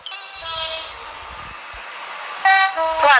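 Train pulling into a platform in the Roblox game Stepford County Railway, a sustained mechanical hum with tonal whine, followed by a loud horn toot near the end, no voices.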